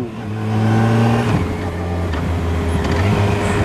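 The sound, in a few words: 2015 Yamaha FJR1300 motorcycle with Yamaha racing exhaust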